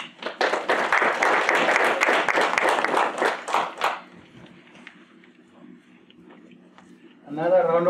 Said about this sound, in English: Another round of applause for Carla.